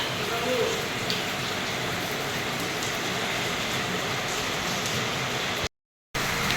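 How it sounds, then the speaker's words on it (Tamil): Heavy rain pours steadily outside a hospital, a dense, constant hiss close by that fills the whole stretch before briefly cutting out near the end. "மழை வந்துட்டுருக்கு ஃப்ரெண்ட்ஸ்."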